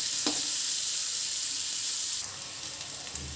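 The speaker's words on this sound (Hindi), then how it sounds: "प्याज भून गई है" Onion fries in a pan with a constant bright sizzle and a soft clink early on, the hiss dropping slightly near the end; no talking.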